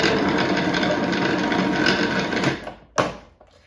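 A kitchen mixer whirs steadily as it creams icing sugar and margarine for lemon dreidel biscuits, a loud close motor drone that stops sharply near the end, followed by a brief clatter.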